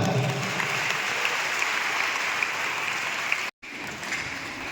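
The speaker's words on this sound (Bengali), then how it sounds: "জোরে হাততালি সবাই।" Sustained applause from an audience at a school prize-giving ceremony, steady and fairly loud throughout, broken by a brief cut near the end before the clapping resumes.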